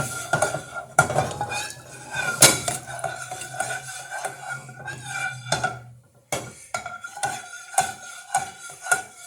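Ingredients for a cod fish dish being mixed with a plant-based sweetener, a spoon scraping and clinking against a bowl in an irregular rhythm of stirring strokes, close and fairly loud, with a brief pause partway through.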